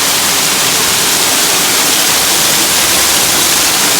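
Sable Falls roaring at very close range, a loud, dense, unbroken rush of falling water that fills the whole clip with steady hiss-like noise and no voices.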